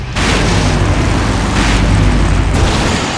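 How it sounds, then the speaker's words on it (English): A huge explosion in the Full Throttle Remastered video game roars at full volume, a sustained rumbling blast that stays heavy and dense for several seconds without fading. "Now that's an explosion, ladies and gentlemen."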